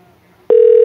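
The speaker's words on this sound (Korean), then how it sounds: "이제 전화 연결이 됐네요" A telephone line connects for a call-in interview on a Korean baseball talk show: a loud, steady electronic tone starts abruptly halfway through and holds, following a near-silent stretch.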